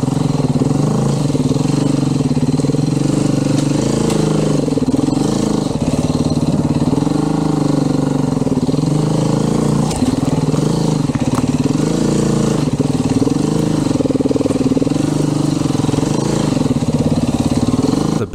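A motorcycle engine drones steadily and loudly throughout while the bike is ridden through a sandy desert wash, with a continuous close-up roar and slight surges in pitch.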